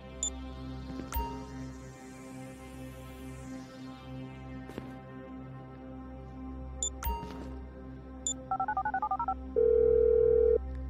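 A phone being dialed in the video game GTA V: a few key clicks and beeps, a short run of rapid dialing tones, then a steady ringing tone near the end over a low game ambience hum, no talking.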